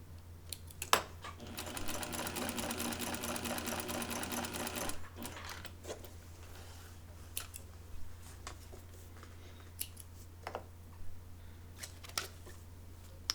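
A sewing machine runs in a steady whirring burst of about three seconds while stay stitching under the arm of a blouse, followed by quiet fabric handling and scattered soft clicks.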